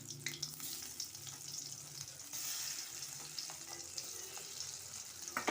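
Yam slices fry in hot oil in a kadai, giving a steady, close, dense sizzling hiss with a few brief crackles and pops throughout, and no voices.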